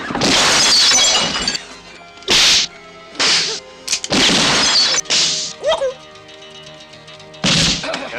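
Several loud bursts of breaking, shattering glass in a spaghetti western trailer, coming in separate sharp crashes with brief gaps, some following quickly on one another, and no talking over them.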